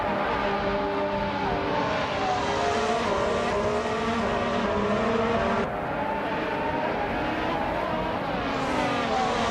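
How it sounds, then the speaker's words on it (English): A Ferrari race car in a racing video game drives with a loud, sustained engine whine that rises and falls through gear changes, continuous and close with no talking. "Novalife is driving a Ferrari SH70H"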